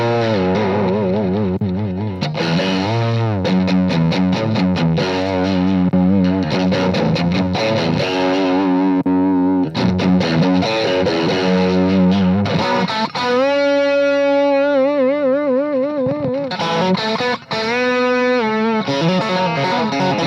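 Electric guitar played through a cranked rock amp with a rectifier gives a loud, distorted tone. Sustained chords and riffs carry heavy gain and sound spongy throughout, with a short wavering passage midway.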